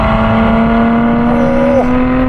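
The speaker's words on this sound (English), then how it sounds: "It's got a solid shift to it." Lotus Emira sports car on the move with a manual gear shift, a steady engine drone and whir inside the cabin, the engine note dipping briefly as the gear changes.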